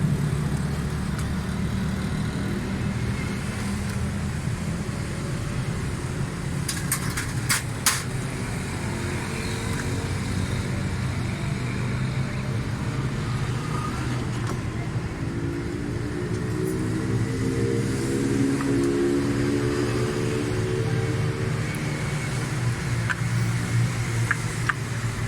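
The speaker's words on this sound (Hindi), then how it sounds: "ये गाड़ी स्टार्ट है।" A 2018 Suzuki Wagon R engine runs steadily at idle with a loud, continuous hum, then climbs and eases in pitch as the revs rise and fall, with a few brief clicks and no voices.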